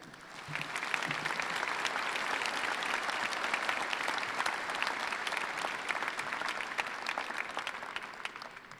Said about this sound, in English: Let's give a round of applause for our staff here.